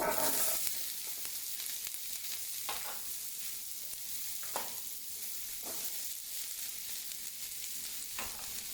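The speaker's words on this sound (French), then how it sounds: "Je vais faire revenir le tout." Red and green peppers frying in olive oil give a steady, close sizzle, with a few soft stirring scrapes breaking through now and then.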